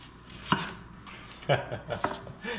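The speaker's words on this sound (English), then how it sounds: "Then we're gonna cut these in half again, or widthwise rather, because we wanna make onion rings." A knife cuts onions widthwise on a cutting board to make onion rings, three or four sharp close chopping thuds spaced about half a second apart, with a voice talking quietly between cuts.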